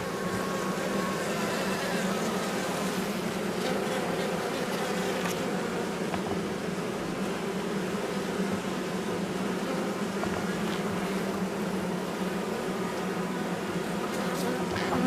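A dense, steady hum of many honeybees buzzing continuously in an open hive during nest preparation, with no voices and fairly constant loudness throughout.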